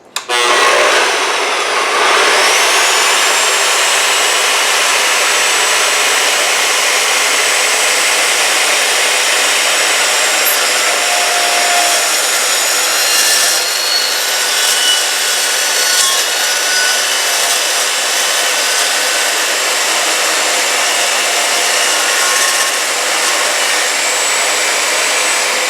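A Skilsaw 12-inch dry cut chop saw spins up and then cuts for a long stretch, giving a loud, steady, rasping roar with a high metallic ring that stays constant throughout.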